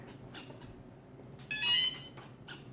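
Electronics in an E-flite AT-6 1.5 m RC plane coming to life after binding, giving a short burst of high, tonal beeps in the middle of an otherwise quiet, faintly hissy room.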